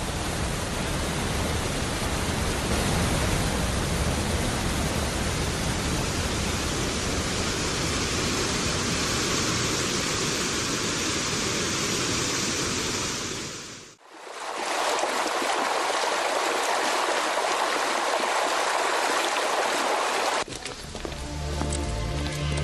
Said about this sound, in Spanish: terminan en unos impresionantes saltos como el así bautizado Velo de Novia